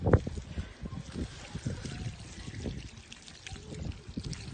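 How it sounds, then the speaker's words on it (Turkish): Water is poured onto flour dough while homemade village erişte noodles are made in Akseki: a continuous close trickle and splash of pouring with soft knocks and rustling, no clear talk. "Bir yandan da su dökeceğim."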